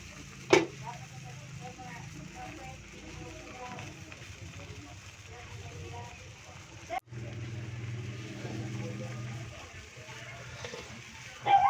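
Low, steady bubbling and simmering from a pot, with soft clinks and a couple of sharp knocks, and muffled speech faintly underneath.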